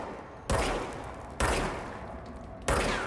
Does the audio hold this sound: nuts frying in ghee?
no